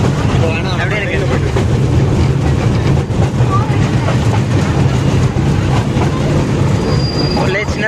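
A small ride train rolls along the track at a Chennai rail museum with a loud, continuous rumble and clatter of wheels, faint squeals, and people talking beneath the noise throughout.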